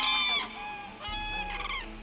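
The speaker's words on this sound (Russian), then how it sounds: "совместное пение, когда самец и самка настолько сближают манеру исполнения своих партий, что кажется, будто кричит одна птица" A male and female crane calling in duet, loud, close harmonic trumpeting cries in two overlapping bursts that blend as if from a single bird.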